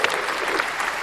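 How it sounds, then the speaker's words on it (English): A short burst of crowd applause played as a sound effect, dense clapping at moderate volume lasting about a second. "We got sound effects again. There we go. That was the crowd."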